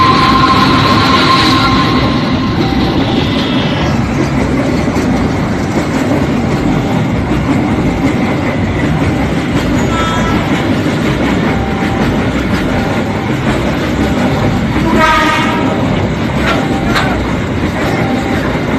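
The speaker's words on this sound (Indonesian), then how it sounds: "tak lama kereta dari dua arah melintas" Trains pass from two directions over a railway level crossing, a loud continuous rumble of railcars with rhythmic wheel clatter and brief squeals, steady and close throughout.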